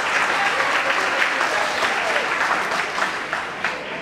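An audience at a free recruitment-training workshop in Bhiwandi claps continuously for about four seconds, a dense, even round of applause from a roomful of people.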